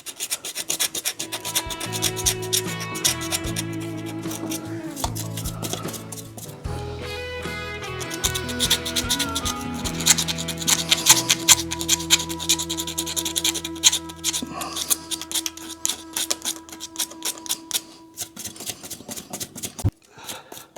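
80-grit sandpaper rubs back and forth over painted metal on a custom Harley, in close, rasping strokes of uneven rhythm that fade near the end.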